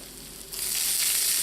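Garlic browning in extra virgin olive oil in a pan, a quiet hiss that swells abruptly into a bright, close, steady sizzle after a brief pause.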